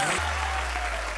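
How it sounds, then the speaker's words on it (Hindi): A crowd applauds for party members and fellow performers: steady, loud clapping that begins after a brief voice and keeps up through the end. "इनके लिए जोरदार तालियां"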